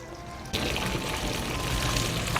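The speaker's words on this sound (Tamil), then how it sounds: "இந்த சட்டியில் மீன் குழம்பு வச்சா மண்சட்டியில் அது கொதிச்சுட்டே இருக்கும் உள்ளேருந்து" Fish curry simmers in a clay pot over a wood fire, giving a steady close bubbling and crackling hiss that swells suddenly after a quieter start and then continues evenly.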